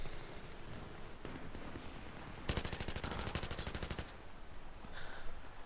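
M249 light machine gun from Battlefield 3 firing one sustained automatic burst of rapid, evenly spaced shots in the middle, set between stretches of quieter game background noise.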